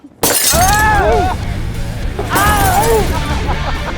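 A plate hurled and shattering in a restaurant kitchen during a chef competition: a loud sudden crash with ringing glassy shards, then a second smash, with voices and clatter around it.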